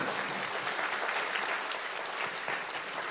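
A conference audience at COSCUP 2022 applauds steadily for about three seconds, a dense, even clatter of many hands clapping at once that neither builds nor fades.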